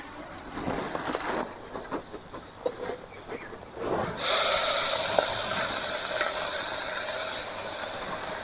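Drumstick leaves (sajne greens) hit a hot pan and break into a loud, steady sizzling hiss, after a few seconds of clicks and light rattling.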